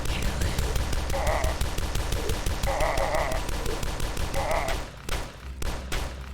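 Dual-wielded guns firing in the first-person shooter Dusk: rapid, loud bursts of shots in close succession that break off briefly near the end before resuming.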